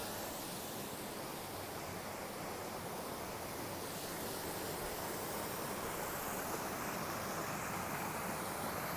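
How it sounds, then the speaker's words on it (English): A small waterfall on Hell Beck, a stream in ancient woodland, gives a steady, even rushing roar that holds constant for the whole stretch with no pauses or voices. "I filmed this little waterfall before, and it's just so pretty here."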